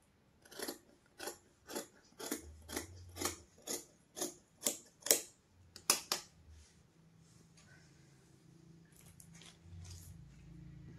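Scissors cutting blouse fabric folded in four, about a dozen crisp rhythmic snips close by, speeding up before pausing, followed by faint handling sounds.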